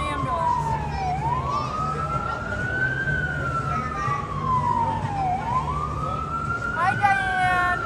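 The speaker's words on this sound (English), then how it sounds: "Here comes an ambulance." An ambulance siren wails in long rising and falling sweeps as it passes along a street in Gatlinburg, loud and close, then breaks into faster yelps near the end over low traffic rumble and faint voices.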